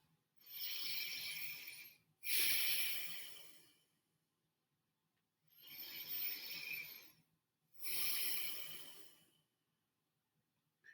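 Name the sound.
deep abdominal breaths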